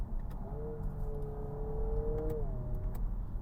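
A Honda Prelude's simulated eight-speed automatic gearbox downshifts, its engine tone sweeping through a sustained drone and then dropping as the next gear engages, heard from inside the car over steady road rumble with a few faint ticks.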